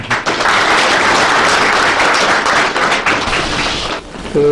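Audience at a Korean presidential election review debate forum breaks into dense, loud applause that holds steady for about four seconds, then thins briefly before a quick final burst.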